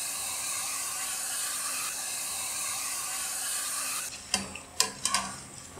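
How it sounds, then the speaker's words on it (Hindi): Sev dough pressed into hot oil sizzles with a steady broadband hiss for several seconds, then a few sharp crackles and pops burst out near the end as the strands fry. "अब इसे हम फ्राई करेंगे।"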